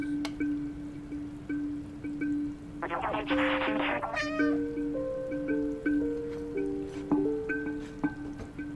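A cat meows in the video game Stray, a short run of plaintive calls standing out over a steady electronic hum and soft ambient game sounds.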